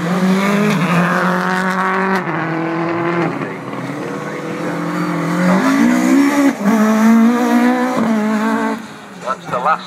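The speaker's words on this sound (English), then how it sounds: "Lots of noise from car 27." Rally cars race at a hill climb on a seafront course, a near, loud engine note rising and falling through gear changes for several seconds with a brief tyre squeal. A commentator talks over it.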